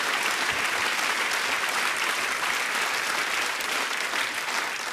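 Audience applause for the Swiss women's national tug-of-war team at a televised finale event, a thick, continuous roar of clapping held at constant loudness from start to finish.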